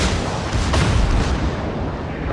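Main battery salvo from the battleship Kii in the naval game World of Warships, a loud, dense booming roar that fills the whole short stretch with rumbling low end and no speech.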